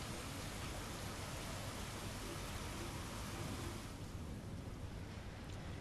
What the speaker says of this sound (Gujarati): જૂનાગઢના જાલ્લાના ગડુ શેરબાગમાં વીજળીના કડાકા સાથે ધોધમાર વરસાદ પડ્યો